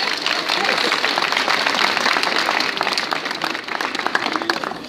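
Students at a secondary school assembly clap together in a steady, dense round of applause, with some voices mixed in.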